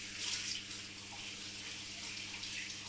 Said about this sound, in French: Je vais juste me laver les mains.